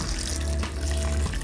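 Hot water left over from boiling tomatoes poured steadily into a blender or pot in a home kitchen, a continuous close splashing stream with no talk.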